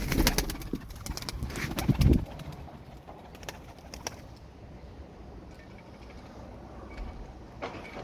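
Pigeons coo softly in the background, with a burst of wing flapping and rustling near the start before things settle into quiet ambience.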